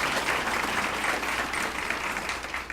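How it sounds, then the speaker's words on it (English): Educators and audience at an evening school event applauding, a dense steady wash of clapping from a sizable crowd, sustained and fairly close throughout. "give yourselves a round of applause"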